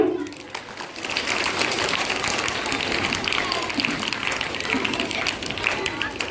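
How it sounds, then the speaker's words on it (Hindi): A school audience gathered at DAV school for a Mahatma Hansraj Jayanti observance breaks into dense, sustained applause. The clapping is loud and continuous, with some voices underneath. "और शास्त्री सर के लिए जोरदार तालियां।"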